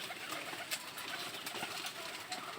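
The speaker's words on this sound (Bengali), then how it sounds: "কিছু কবুতরগুলো দেখেন, মাশাআল্লাহ কি সুন্দর, সবগুলো উড়াউড়ি করতেছে" Pigeons in a loft where about twenty pairs are kept, birds flying about with flapping wings and soft cooing mixed into a dense, close rustling din, no voices.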